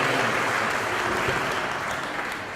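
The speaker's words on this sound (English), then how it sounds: "We need to give you a round of applause" Sustained audience applause for parents at a Success Mentors program kickoff in Kansas City, a steady dense wash of many hands clapping at once, loud and even throughout before tapering slightly at the end.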